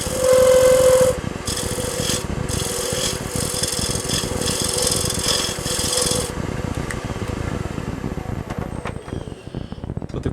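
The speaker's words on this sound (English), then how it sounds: "Now I can move with this tool by laying it flat on it and gouging out." A hand tool laid flat gouges out stone for a jewel box, making a loud, close, continuous rasping scrape that fades toward the end along with a faint steady hum.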